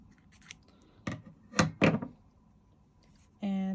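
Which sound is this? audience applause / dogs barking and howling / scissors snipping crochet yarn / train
scissors snipping crochet yarn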